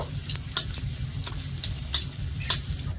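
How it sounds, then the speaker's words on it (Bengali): Cashews and raisins fry in a pan with semolina, giving a soft steady sizzle broken by quick clicking stirs and light scrapes of the spoon, close up and with no voices. "এবারে আমি দিয়ে দিচ্ছি কিছুটা কাজু বাদাম আর কিছুটা কিশমিশ হালকা করে নেড়ে একটু ভেজে নেব"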